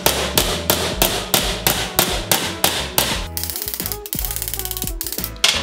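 A hammer taps sheet metal clamped over a hole to start raising a dish, giving a steady run of sharp, evenly spaced metallic strikes that quicken into a faster ringing patter near the end.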